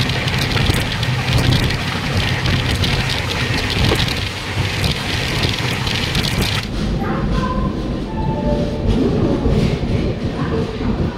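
Samudra Kanya Express train running at night, heard from inside a coach as a loud steady rumble and rattle of wheels and carriage that continues throughout, slightly quieter in the second half.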